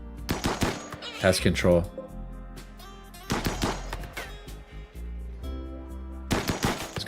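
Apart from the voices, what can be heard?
assault rifle gunfire while hunting in the video game RimWorld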